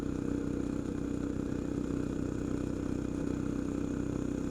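A Coleman CT200U mini bike with studded tires runs on thin ice, its small engine a steady, even, moderately close drone with a faint clattery edge that continues throughout.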